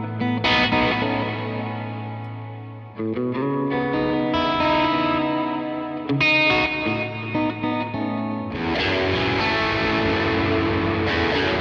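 Fender '57 Aztec Gold electric guitar played with effects, chorus and distortion, loud and sustained chords and melodic runs, steady with brief breaks near the start and end, no talking.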